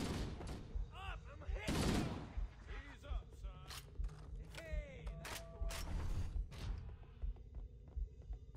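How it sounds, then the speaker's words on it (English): Bursts of gunfire in Halo: Combat Evolved, aboard a ship: rapid sharp shots and fusillades scattered across the clip, some close and loud, others fainter, mixed with alien chirps and weapon whines. "What are they shooting at?"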